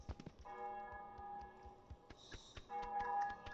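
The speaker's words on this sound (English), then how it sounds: "There's a church bell." A church bell rings in Untitled Goose Game, sustained tonal strikes with long ringing decay sounding twice, set among light ticking game sounds and ambient village noise, fairly quiet.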